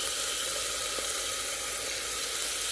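Curry leaves, shallots, green chilies and garlic sizzle in hot oil in an Instant Pot, giving a dense, steady, close frying hiss with no pauses.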